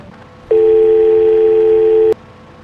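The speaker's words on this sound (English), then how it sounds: "Subject is lured away by a brief phone call." A single steady telephone tone sounds for about a second and a half in a call-centre horror video game, clean and loud over a quiet background.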